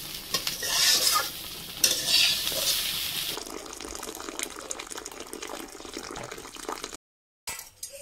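Potatoes sizzle in a frying pan, stirred a few times with scraping strokes, then a quieter hiss continues up close before a brief silence near the end; no one talks.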